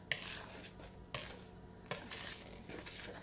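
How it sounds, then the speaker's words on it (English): A spoon works sultanas into a scone mix of flour, baking powder, salt and rubbed-in butter in a bowl. It gives soft, quiet scraping and clinking strokes, about four of them in an even rhythm, with no voices. "I'm just going to mix in the sultanas"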